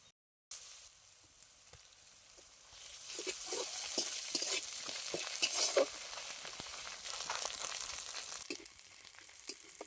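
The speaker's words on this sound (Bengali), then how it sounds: "পেঁয়াজটা খুব ভালো করে লাল লাল করে ভেজে নিয়েছি, এবার দিয়ে দিচ্ছি আদা রসুন বাটা পরিমাণ মতো।" Onion with ginger and garlic paste fries in a pan for a shrimp and lentil dish, a soft steady sizzle building up with scraping stir strokes, close and fairly quiet.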